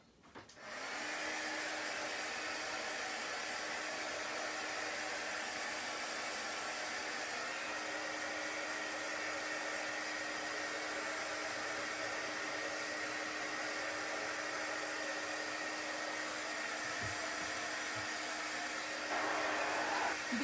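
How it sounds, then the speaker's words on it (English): A handheld hair dryer blows continuously on a chalk transfer laid on a waxed board, a steady loud whooshing whine with a constant motor hum that starts abruptly and runs unbroken. "And I'm going to blow dry."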